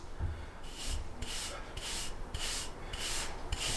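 A wave brush scrubs through short hair in repeated strokes, each a rough bristly swish roughly half a second long in a steady back-and-forth rhythm, close and clear with no talking.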